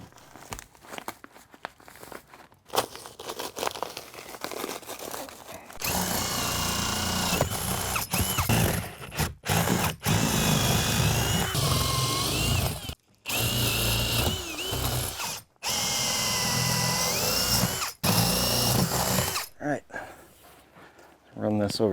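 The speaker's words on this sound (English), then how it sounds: "Now I know that's going to go through just fine, so I can drill the other holes" A power drill bores holes through wood framing for rough-in electrical wiring in a bedroom remodel, running in several loud sustained bursts separated by short pauses, with someone talking briefly before the drilling starts.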